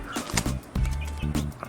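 Backyard chickens chirping and clucking, several short close-up calls in quick bursts with brief pauses between them.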